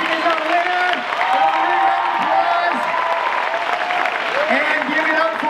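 Audience applause at a school talent show, loud sustained clapping and cheering from a crowd with voices calling out over it and music-like tones running underneath.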